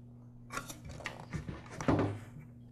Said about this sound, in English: Now replace the spool lever. It just simply presses into the spool.